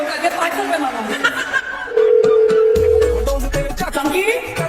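A telephone dial tone sounds steadily for about a second during a call, set amid lively talk and chuckling from people nearby.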